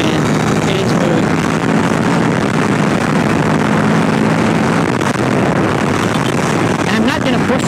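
A Kawasaki Ninja 650 motorcycle engine hums steadily while riding on twisty roads, with loud continuous wind rush over a low droning engine note throughout.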